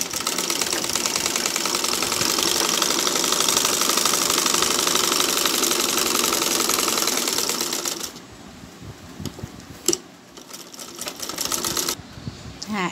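Sewing machine stitching fabric for a girl's top, running loud and continuous for about eight seconds, then stopping, followed by quieter handling noises with a brief knock.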